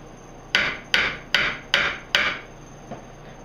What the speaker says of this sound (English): I'm hammering this side